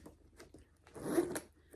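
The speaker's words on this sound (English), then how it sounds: "this does zip down the sides" A zipper on a Coach leather barrel bag being unzipped down the side, a few short ticking pulls rising into a longer rasping zip up close, with no talk.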